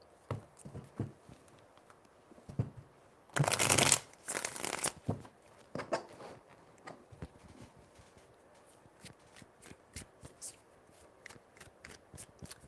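Tarot cards are shuffled in quick rustling bursts, riffled and tapped close by, with one loud dense flurry in the middle and lighter intermittent shuffles after, while a voice speaks between them.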